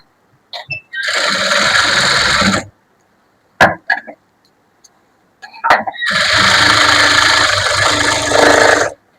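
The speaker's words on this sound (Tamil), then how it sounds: "எடுத்து வச்சா இனி உள் பக்கம் திருப்பி கூட ஒரு தையல் போட்டுருங்க" A sewing machine stitches a blouse lining in two long, loud, steady whirring runs, separated by brief clicks and handling noises.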